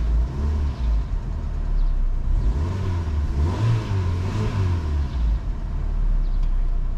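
A 1.2-litre Fiat Fire car engine with a coolant system being bled, held at about 3000 rpm, a loud steady close drone that rises and swells in pitch midway before settling back.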